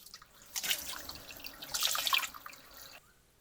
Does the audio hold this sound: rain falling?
no